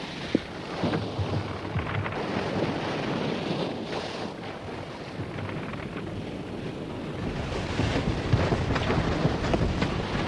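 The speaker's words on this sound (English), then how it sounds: "There's a strong wind getting up, sir." Strong wind at sea aboard a sailing ship, roaring and gusting steadily with buffeting against the microphone and surging water, loud and continuous throughout.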